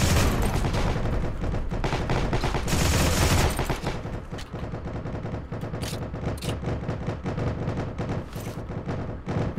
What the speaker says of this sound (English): burst firing feels okay.